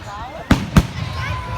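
Fireworks at a fireworks show go off as two sharp, booming bangs about a quarter second apart, heard over background talk and crowd noise.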